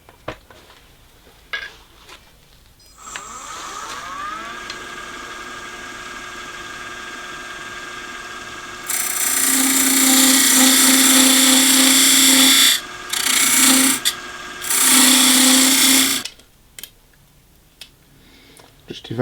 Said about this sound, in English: I'm going to turn a tenon on this leading edge